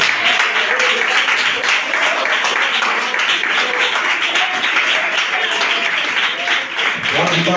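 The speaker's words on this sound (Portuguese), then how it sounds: "Pode bater mais palmas, engrandecer aquele que merece" A large church congregation claps and applauds loudly and steadily throughout, a dense wash of clapping with voices mixed underneath.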